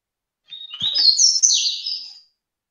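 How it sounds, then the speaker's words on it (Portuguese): Small birds give one shrill, piercing burst of chirping and twittering lasting under two seconds, loud and close, set against silence. "quando esses passarinhos apita, dói o cu do ouvido"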